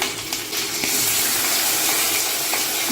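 Mustard seeds, curry leaves and asafoetida sizzle in hot oil for a Gujarati chickpea-flour kadhi-style chutney, a steady close crackling hiss with a few sharper pops.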